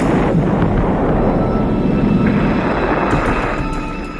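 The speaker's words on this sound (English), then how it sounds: "heavy artillery duels continue between the British and the Italians in and around the cities of Tobruk and Derna" Heavy artillery fire between British and Italian forces around Tobruk and Derna in Libya, in wartime archival sound: a loud, continuous roaring rumble of booming blasts that fades slightly at the end, with no talking.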